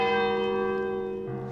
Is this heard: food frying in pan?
no